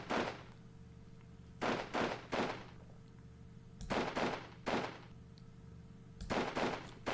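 Rifle fire in the wargame Squad Battles Winter War comes as sharp, loud bursts of several cracking shots in irregular clusters, separated by quiet gaps over a faint low hum, with no talking.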